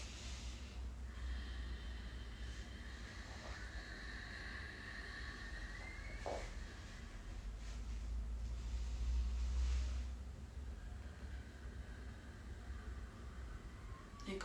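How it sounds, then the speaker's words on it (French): Slow, deep breathing during a Vinyasa flow yoga class, long drawn-out inhales and exhales rising and falling softly over a steady low background rumble, no talking. "Comptez encore 5 profondes respirations."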